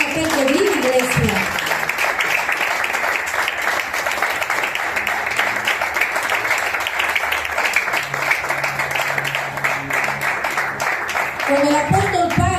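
A church congregation claps loudly and steadily through a Spanish-language Christian sermon, a dense sustained burst of many hands with a voice heard briefly at the start and again at the end.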